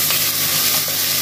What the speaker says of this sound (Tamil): நம்ம வச்சுருந்த இந்த வெங்காயம், இஞ்சி, பூண்டு, கருவேப்பிலை எல்லாம் மொத்தம் அப்படியே போட்டுருங்க. சரியா? போட்டுட்டு நல்லா மிக்ஸ் பண்ணிடுவோம்.